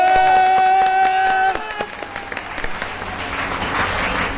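Audience applause at a Megha celebration program in Raipur, heard at first over steady sustained musical tones, then continuing as a dense, moderately loud wash of clapping once the tones stop.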